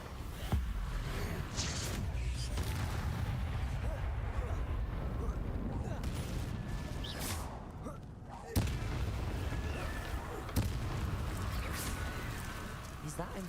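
A Confringo blasting spell goes off in Hogwarts Legacy with a sharp burst and rumbling boom, followed by further cracks and booming impacts over a dense, busy game soundscape at moderate level.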